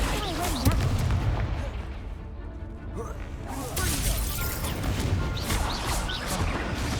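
A Confringo spell explosion in Hogwarts Legacy, a loud crashing blast that rumbles on through continuous game sound effects and music, with layered impacts and no clear gaps.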